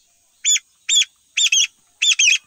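A young black chick that escaped into a cornfield calls loudly, giving six sharp, bright peeps in short bursts, some doubled, with quiet gaps between them and no talking.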